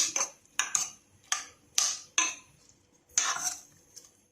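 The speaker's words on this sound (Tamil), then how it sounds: "இப்போ இதை வந்து நல்லா மசிக்கணும்" Cooked brinjal for kathirikkai gothsu is mashed in a pan with a metal utensil, producing about eight sharp, close knocks and scrapes in an uneven rhythm.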